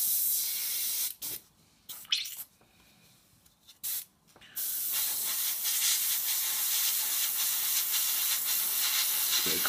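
Vallejo chipping medium sprays steadily from an airbrush set around 22 to 25 psi, a continuous close hiss broken by short pauses early on before settling into a long, even spray.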